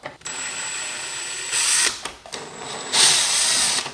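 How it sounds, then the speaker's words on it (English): A power drill whirs in two short bursts, winding up with a high whine and ratcheting as screws are backed out of a Toyota Tacoma, close by. "I'm a little lazy, so I'm gonna go ahead and use a drill"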